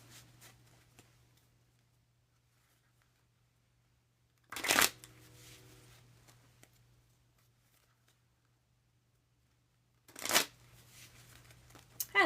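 Playing cards are shuffled in two brief, crisp riffles several seconds apart over a low steady hum, with faint handling noises in between.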